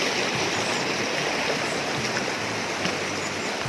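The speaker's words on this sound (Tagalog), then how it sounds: "Matawid tayo ng mga ilog" River water flows steadily around someone wading across a slippery mountain stream, a continuous broadband rush with no break and no voices.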